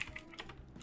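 Quick, faint keystrokes tap on a computer keyboard in a short burst of several clicks, close and quiet.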